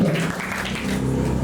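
Steady applause from an audience at a recognition ceremony in Koumassi, a brief continuous patter of clapping at even loudness with no voices.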